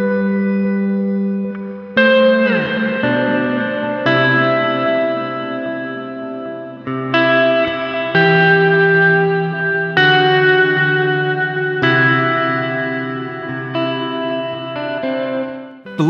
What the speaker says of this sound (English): We have a delay and a reverb.